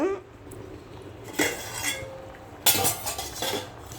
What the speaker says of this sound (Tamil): அரிசியை போட்டு நல்லா கிண்டி நல்லா கிண்டி விட்டுட்டு மூடிடணும் இப்படி மூடிட்டு